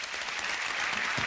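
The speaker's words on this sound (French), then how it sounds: "Applaudissez les danseuses derrière." A television studio audience applauds dancers on a French variety show. The dense, even clapping fills the whole brief moment, with no voices over it.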